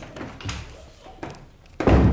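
A door in the bathroom of a beachfront villa on Lipa Noi, Koh Samui, knocks and thuds several times, with a sharp bump near the start, another near the middle and a heavier thump at the end, close by in a tiled room.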